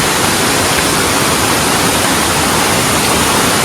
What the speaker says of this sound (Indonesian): Dan ini dia curugnya.